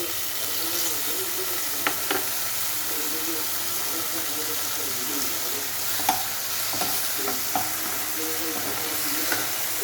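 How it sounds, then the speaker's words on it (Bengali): Prawns fry in white oil in a wok, giving a steady, fairly quiet sizzle with occasional sharp pops and clinks of stirring. "এবার আমি কড়াইয়ে চিংড়ি মাছগুলো ছেড়ে দিই"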